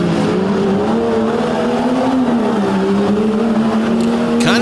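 Monster trucks racing at an Overdrive Monster Truck event in Pennsylvania, engines droning loud and close with a steady roar and shifting pitch, tire noise mixed in, no talk.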